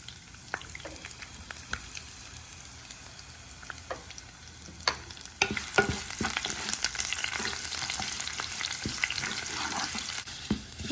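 Curry leaves and shallots hit a hot pan, bringing sharp crackles and pops that grow into a busier, louder sizzle about halfway through, close up with scattered bursts and no speech.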